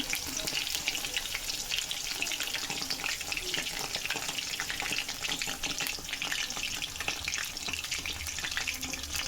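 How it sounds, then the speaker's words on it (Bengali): Continuous crackling sizzle of mushroom chops frying in hot mustard oil, fairly faint and even, with no voices. "তারপরে সরিষার তেলে ভাজা"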